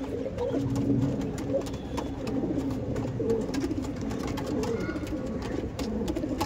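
A pair of Andhra Phulshira Madrasi pigeons coo steadily, the male restless beside the female, a continuous low murmur of repeated coos close by with rustling and background noise throughout.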